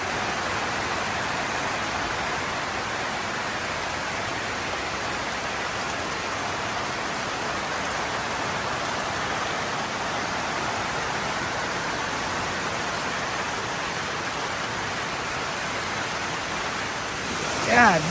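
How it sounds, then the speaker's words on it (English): Heavy rain pours down in a dense, unbroken hiss that holds steady for a long stretch, with a brief louder knock right at the end. "it is pouring now"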